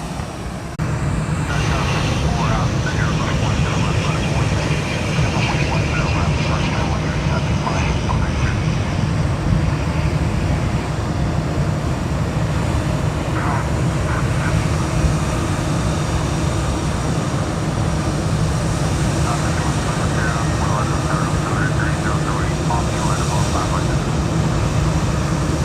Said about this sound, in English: we will be wrapping up with the nice Allegiant takeoff right here, which is headed over to Asheville